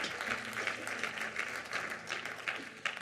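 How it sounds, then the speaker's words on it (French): A church congregation applauding, steady dense clapping with bursts of cheering, fairly distant and soft, continuing throughout with a faint voice underneath. "tu peux acclamer le Seigneur plus fort, plus fort, plus fort"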